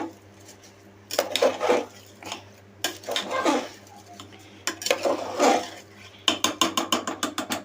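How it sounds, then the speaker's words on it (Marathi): Rice being stirred in a metal pot while making pulao, a run of close scraping and clinking strokes. The strokes come in uneven bursts and end in a quick series of rhythmic clicks. "आता तांदूळ हलवून घ्यायचे,"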